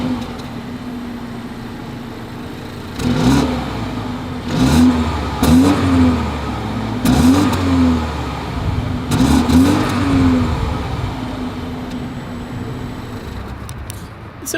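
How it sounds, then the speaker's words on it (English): A 2022 BMW X2 M Sport xDrive exhaust idles steadily, then revs four times in quick succession, each blip rising and falling, close and loud, before settling back to a smooth idle. "As always, here is that exhaust clip."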